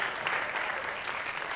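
An audience at a senior awards and cording ceremony applauds a senior class president receiving a medal, a brief burst of dense, steady clapping from a crowd at moderate distance.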